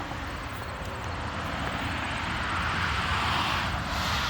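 A 1955 Chevrolet 210 two-door post with a 350 engine and dual exhaust, idling as a low, even, moderately quiet rumble that holds steady throughout and swells slightly near the end, with no talking.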